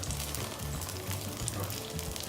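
A tortilla crisping in hot oil in a pan while making tofu enchiladas gives a steady, dense sizzle with crackling pops, close and continuous with no talk.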